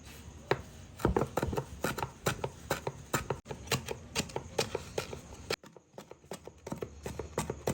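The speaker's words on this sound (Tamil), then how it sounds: "அப்போ இது கொத்தமல்லி சின்ன நம்ம கட் பண்ணணும்" A knife chops fresh coriander leaves finely on a board, with rapid, fairly even taps that carry on steadily, close and crisp.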